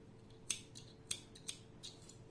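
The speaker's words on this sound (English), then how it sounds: "I am cutting the yarn." Scissors snip through crochet yarn: four crisp, quiet clicks spaced about half a second apart, close by in a still room.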